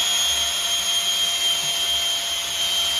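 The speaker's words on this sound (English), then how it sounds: "slowly turn the engine while running the drill" A power drill driving the oil pump of a Mopar 440 big-block engine runs continuously at close range, a steady, high whining, even mechanical drone with no breaks.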